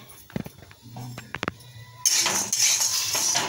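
Chana dal for chakli bhajani going into a pan and being stirred, a few sharp metallic clinks of a spoon at first, then a steady dry rattling rustle of lentils roasting up close.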